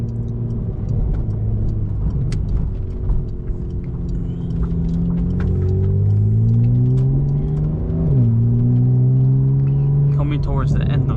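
A Porsche 911 Turbo S of the 992 generation with an Akrapovic exhaust downshifting through the gears, the engine note stepping up in loud rumbling blips, heard from inside the car.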